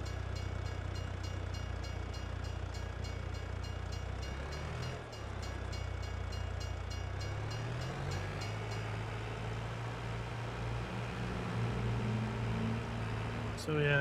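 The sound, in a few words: train passing in Farming Simulator 22 video game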